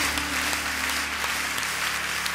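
A church congregation applauds, a dense, steady wash of many hands clapping at once, continuous and fairly close, with no talking.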